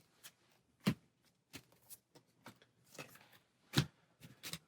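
Playing cards for the Marvel Champions tabletop game being shuffled by hand, heard as sharp, close riffles and light taps in an irregular rhythm over a quiet room.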